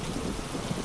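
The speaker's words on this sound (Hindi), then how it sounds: "फिर बारिश खत्म होने का इंतजार करती है" Heavy rain pours steadily in a cartoon thunderstorm, a dense, even wash of noise with low rumbling underneath, without any voices.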